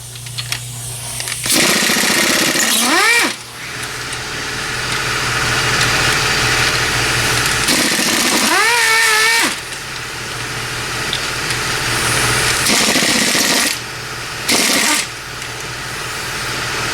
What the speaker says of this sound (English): Exhaust manifold is cracked. That explains where my exhaust leak is coming from.